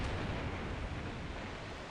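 Faint, muffled rumble of internal explosions aboard the battleship Yamashiro in a Pacific naval war game, a steady low roar without distinct blasts.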